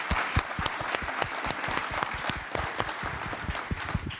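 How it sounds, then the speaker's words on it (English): Audience at a BUILD24 real-estate event in Vancouver claps for an agent, a close, loud burst of distinct individual handclaps in a fast, uneven rhythm. "First of all, round of applause"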